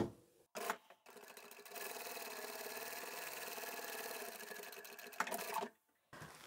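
A sewing machine top stitching straight across fabric, a steady, close mechanical whir lasting several seconds, with a few soft handling clicks before and after.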